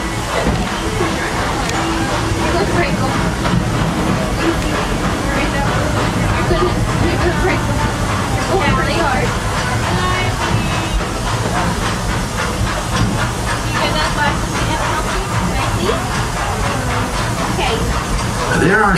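The Magic Kingdom steam train rolls along during the ride with a loud, continuous hiss and rumble, close and steady throughout, while a crowd of passengers chatters in the background.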